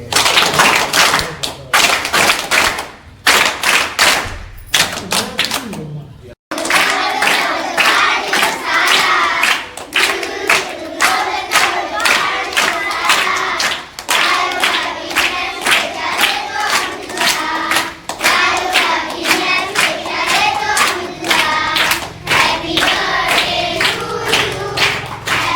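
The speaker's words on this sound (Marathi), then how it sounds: "सर्वांनी जोरदार टाळ्या वाजवून त्यांचं सर्वांचं स्वागत करायचं" A school audience at a Zilla Parishad school birthday event claps to welcome guests: dense, sustained applause of many hands, loud and steady for a long stretch with a brief dip near the start.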